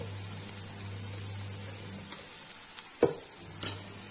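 Onions fry quietly in a pan with a soft, steady sizzle under a low hum, and two sharper scraping clatters from stirring land near the end.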